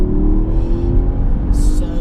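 Porsche Panamera Sport Turismo with a 550-horsepower engine pulling hard in third gear down a long straight, a loud, steady engine drone heard close from inside the car.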